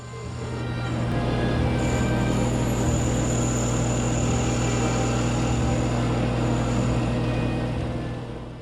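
Wood lathe turning a piece with a skew chisel, a steady loud motor hum and rumble, the scraping cut blended into a continuous drone that swells in and fades slightly at the end, with no talking.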